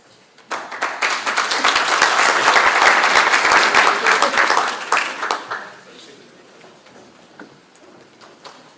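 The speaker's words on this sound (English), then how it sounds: "Can we give them a round of applause again?" Audience applause at a research colloquium: a dense, steady round of clapping from a roomful of people swells quickly, holds for about five seconds, then thins out into a few scattered claps and room noise.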